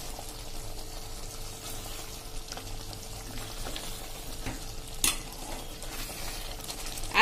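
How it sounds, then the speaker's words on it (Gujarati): A spoon stirs a ridge gourd and moong dal curry in a pan on the stove, soft scraping strokes and a gentle sizzle running steadily with one sharper clink near the end. "અને હવે આ બધું આપણે સરસ મિક્સ કરી લેશું."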